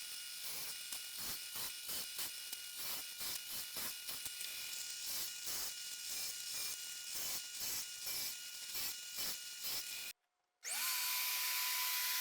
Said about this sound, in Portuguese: usando a furadeira de bancada aqui